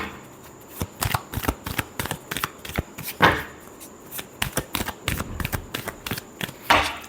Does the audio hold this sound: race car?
no